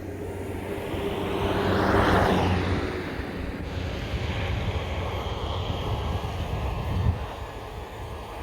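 An E-flite V-22 Osprey RC model aircraft flies past outdoors, its buzzing motor whine rising as it draws near and fading away through steady wind noise.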